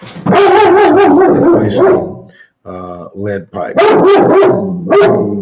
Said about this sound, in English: he is hearing another dog who was outside barking